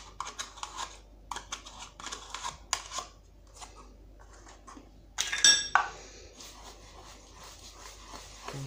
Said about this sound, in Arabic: نخلط شويه هادشي